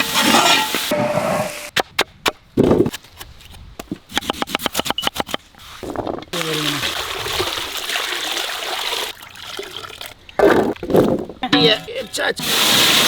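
Water with rock salt and turmeric is stirred for a yam cutlet, giving sloshing, trickling strokes that start and stop while a voice talks on and off.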